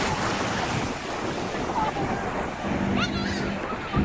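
Sea waves wash steadily on Alibag beach in Maharashtra, a broad continuous roar mixed with wind buffeting the microphone while people chatter nearby.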